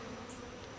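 Honey bees inside an open hive give off a soft, continuous buzzing drone, faint and steady throughout with no voices.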